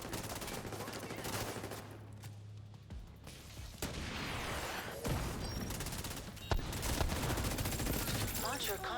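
LMG light machine gun fire in the shooter game The Division 2, bursts of rapid automatic shots over busy combat noise, loud and sustained with brief lulls and sharp impacts.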